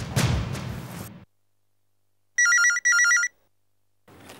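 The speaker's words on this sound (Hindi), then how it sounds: "इस वक्त कौन फोन कर रहा है?" An electronic telephone ringing in a quiet room at night, two loud, high trilling bursts in quick succession after a sudden cut from a noisy moment, then silence.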